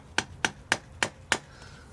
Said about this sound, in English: so I have to use a hammer